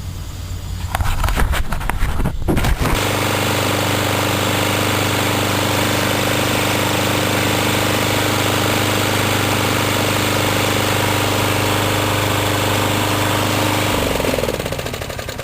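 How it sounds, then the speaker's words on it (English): A walk-behind lawn mower engine with a broken cable is cranked, catches and runs steadily at a loud, even idle for about eleven seconds before cutting out. "So now that you see the engine starts, you could go out and order the cable for your unit."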